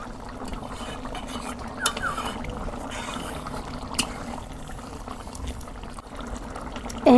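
Beef simmering in boiling water in a pot, a low steady bubbling close by with a couple of faint clinks and a soft knock at the end, no talk.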